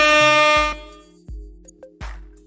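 Air horn blasts loud and sustained for about three-quarters of a second during a sports talk show, followed by a few short sharp thumps and bursts of noise.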